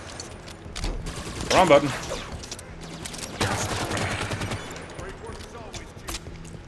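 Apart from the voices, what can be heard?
turret firing in Halo 5 video game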